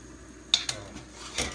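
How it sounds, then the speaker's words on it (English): A lid is set on a cooking pot of simmering pising, with a couple of sharp metallic clinks followed by a softer clatter and faint bubbling, close by and without talk. "So now cover it and let it simmer."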